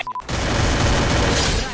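A gunshot blast in the Free Fire battle-royale game hits loud and close after a brief beep, followed by a sustained booming, noisy wash of gunfire.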